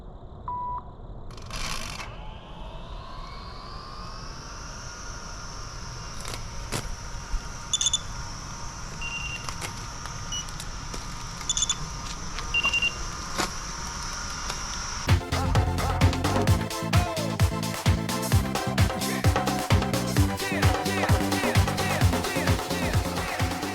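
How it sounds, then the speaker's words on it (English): Mammotion Luba 2 AWD 3000HX robotic mower starting up: beeps and a rising motor whine that holds steady as a tone, then the motors engage into a louder, busier mechanical hum with rhythmic ticking. "Motors, here comes the motors."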